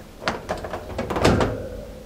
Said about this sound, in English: we have this door that goes down to the basement that when you open it up, it catches